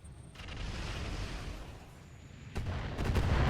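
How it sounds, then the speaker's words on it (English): Indirect missile fire from mechs in RogueTech BattleTech, a steady rumbling barrage of distant impacts with sharper booms near the end, no talk over it. "Indirect missile fire on the javelin."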